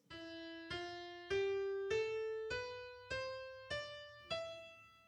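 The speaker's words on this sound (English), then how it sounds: "Let's move on one step higher to E and the Phrygian mode, which sounds like this." A piano plays a slow ascending E Phrygian scale of eight notes on the white keys, each struck clearly and left to ring, with even spacing and a bright, close sound.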